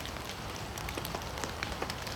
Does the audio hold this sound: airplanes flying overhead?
no